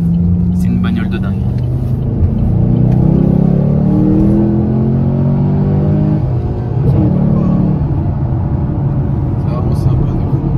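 A car engine revs up and settles, its note climbing and falling in a steady drone close by, with people talking over it.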